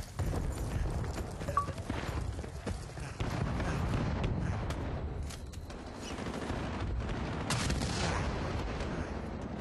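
Gunfire in the video game Battlefield: Bad Company: a dense, fairly faint stretch of scattered gunshots and sharp bursts, continuing without a break.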